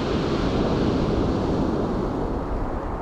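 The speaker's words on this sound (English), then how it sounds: "So some of these waves have got a bit bigger just recently." Cold spring sea surf rolls and breaks steadily on a fishing shore, a loud, dense wash of waves mixed with wind buffeting the microphone.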